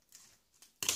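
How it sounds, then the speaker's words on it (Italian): Scissors make short, crisp snips as they cut open a football sticker card pack, with two faint cuts and then a sharper, louder one at the end, close by and with no voices. "Fatto un taglietto con la forbice."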